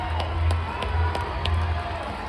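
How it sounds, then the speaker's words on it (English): A rugby stadium crowd at Murrayfield in Scotland claps and cheers at full time after a Scotland versus Springboks match, a dense, steady roar of applause with sharp claps throughout. "Let's just clap the boys off for 1 second."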